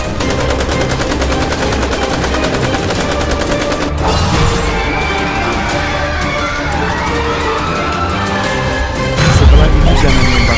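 Rapid AK-47 bursts fired at pocong in a video game, continuous loud automatic fire with crashing impacts layered over a dense game soundtrack, swelling louder near the end.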